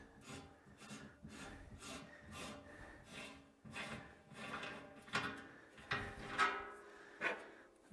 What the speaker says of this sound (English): So you just drive a tap down into that.